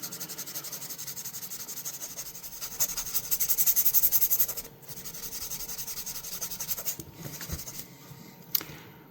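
Gentle hand sanding on the soft metal of a Schrade Copenhagen pocket knife, a close, steady scratchy rubbing that swells for a few seconds and then continues more lightly, with one small sharp tick near the end.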